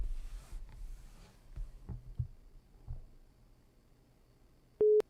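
Busy signal on a call-in show's phone line, troubled during an ice storm: a single short, steady electronic tone sounds near the end after several seconds of faint, low rumbling line noise.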